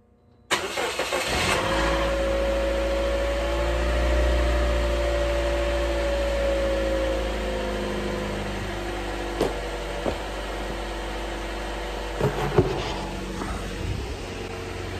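A 2011 Toyota Corolla engine runs at a steady idle after starting, a smooth low rumble with a few faint clicks near the end.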